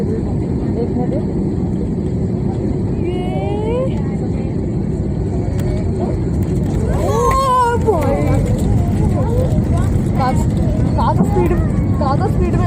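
Inside the economy cabin of a Vistara Airbus A320 coming in to land fast, a loud, constant roar of engine and airflow fills the space, while cabin voices murmur beneath it.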